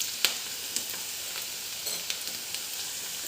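Garlic fries in hot oil for a Kerala-style dal curry, a constant bright sizzle punctuated by a few light scrapes and taps as it is stirred for a few seconds.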